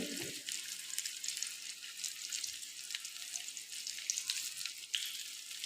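Onions frying in oil in a wok (kadai), a steady continuous sizzle with fine crackle throughout, moderately loud and close, with no talk over it.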